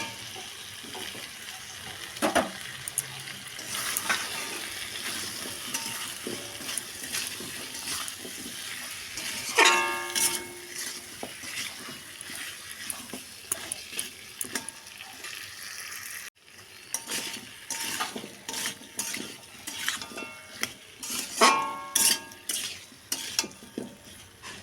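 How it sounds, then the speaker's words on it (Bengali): Water from rinsing a spice bowl is added to a Bengali katla fish kalia curry that is then stirred in the pan, with sizzling, splashing and scraping stirs, close by and without talk. "এবার নেড়ে চেড়ে মিশিয়ে দেব মশলার বাটি ধোয়া জল।"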